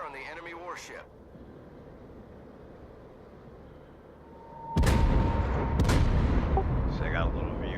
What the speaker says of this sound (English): then I start shooting